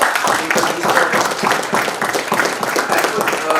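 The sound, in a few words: audience applause at awards ceremony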